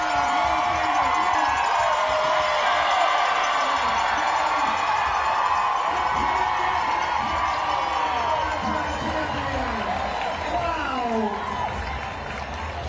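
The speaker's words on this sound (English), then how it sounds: "Just the chills, that roar of that crowd." A large crowd roars and cheers at the Grandma's Marathon 2023 finish as a runner comes in, a loud sustained wall of voices with shouts and whoops, a commentator talking over it.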